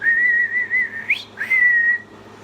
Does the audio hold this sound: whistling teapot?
yes